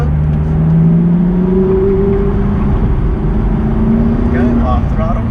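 McLaren MP4-12C engine droning steadily under throttle from inside the cabin, its pitch slowly climbing while a person talks over it.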